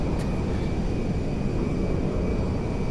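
Airplane engine roaring steadily as the aircraft comes in to land on a runway in GTA V, a constant loud broadband drone with a faint high whine, no talk.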